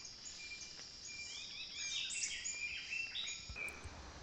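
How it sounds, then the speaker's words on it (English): Black-cheeked ant tanager calling in Costa Rican forest on the Osa Peninsula, a string of high thin chirps and whistles rising over steady forest hiss, moderately close, no voices. "This bird, the black-cheeked ant tanager,"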